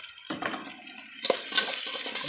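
Beaten egg poured into a pan of sautéed bitter gourd gives a brief wet splash and sizzle, the crackle rising sharply partway through and continuing close and moderately loud.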